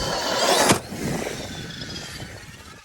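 A Techno radio-controlled car rips across outdoor ground during a ramp-bashing session, its motor whining loudly at first with a sharp burst, then fading to a steadier, quieter hum as it drives off.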